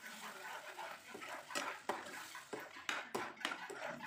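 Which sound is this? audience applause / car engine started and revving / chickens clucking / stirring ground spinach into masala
stirring ground spinach into masala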